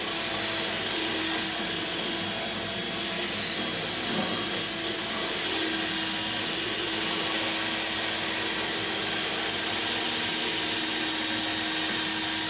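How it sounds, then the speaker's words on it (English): A rotary tool buffs out a hole in a guitar, giving a continuous high-pitched whirring drone with a steady motor tone throughout, close and loud with no talking. "Let's just kind of buff the hole out a little bit this way."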